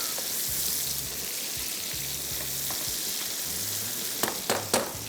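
Chicken pakora fries in oil with a steady, close hiss of sizzling, then a few quick sharp clicks and pops near the end.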